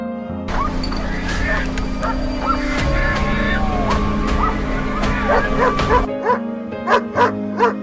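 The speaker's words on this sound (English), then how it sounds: "Dogs barking, gunshots, and the boars' cries blended together." Dogs bark and yip repeatedly during a wild boar hunt on a peanut farm, over a noisy outdoor background with gunshots and boar cries, a few sharp barks continuing alone near the end.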